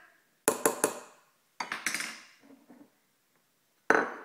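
A spoon stirring a cafe latte in a cup: several bright clinks of metal on ceramic in quick clusters, close and clear, separated by short pauses.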